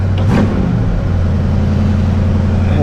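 A 1970 Buick GS with a newly changed intake and four-barrel carburetor idles loudly and smoothly up close, its steady rumble briefly blipped once near the start.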